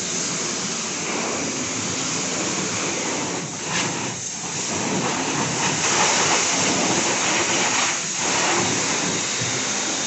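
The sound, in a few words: water being sprayed on a car at a car wash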